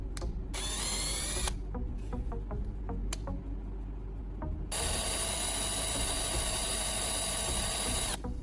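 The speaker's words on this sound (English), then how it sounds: "Next, I use a drill to make holes at the marked positions." A power drill bores holes in a wood block, its motor whining in two long steady runs separated by a quieter gap with a few clicks and taps, loud and close.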